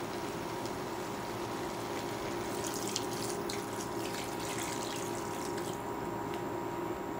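Water pours steadily into a cooking pot for pork sinigang soup for several seconds, a continuous splashing stream heard up close with no talking.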